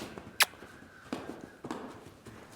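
Hooves of a three-year-old show horse clip-clopping at a steady walk, with a few distinct, moderately close footfalls spaced out over a quiet background.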